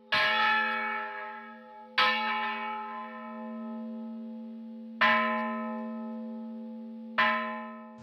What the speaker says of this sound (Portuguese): Primeiro faz um repique com o sino, dá um dobre, 2 dobres, 3 dobres.